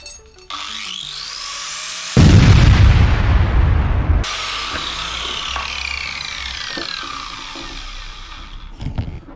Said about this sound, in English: If anything does ignite, then it's gonna go pop out there